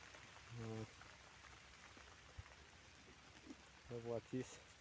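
Steady rain patters in a rural hillside setting, a soft continuous hiss, with a couple of short voice bursts over it.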